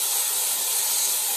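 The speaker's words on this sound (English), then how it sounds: "I want you to go ahead and spray that with some oil." Oil sprayed from a can onto a baking pan for macaroni and cheese, a steady close hiss that runs unbroken through the whole short burst.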